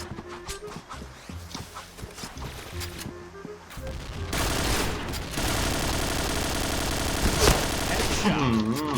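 Rapid bursts of video game gunfire, loud and dense, starting midway and continuing steadily, with clattering effects and music-like tones beforehand.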